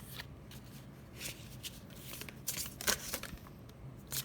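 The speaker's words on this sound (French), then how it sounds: "J'ai une carte qui s'est retournée." Tarot cards are handled and shuffled close up, soft papery riffles and brief flicks, with a small cluster of sharper slaps as cards tip over, quiet overall.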